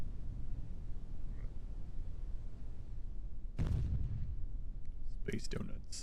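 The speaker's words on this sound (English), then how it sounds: "Explosions in the distance." Distant explosions in Kerbal Space Program: over a constant low rumble, a heavy booming blast rolls out, followed a moment later by a cluster of sharper muffled bangs.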